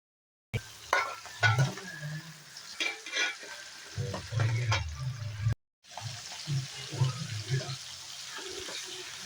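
Garlic and shallots frying in a pan, a soft sizzle with intermittent stirring scrapes and clatter, close by, broken by a brief gap partway through.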